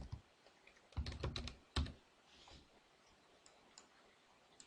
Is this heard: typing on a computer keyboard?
yes